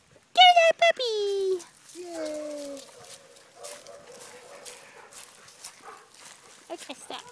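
A puppy yelps and whimpers in high, wavering cries near the start, then gives quieter whines while people talk over it.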